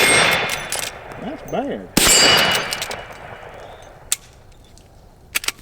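Several sharp shots from a Henry Big Boy Steel .357 rifle ring out against a steel target, a loud crack and metallic clang near the start and middle followed by fainter pings later, with a brief spoken remark in between.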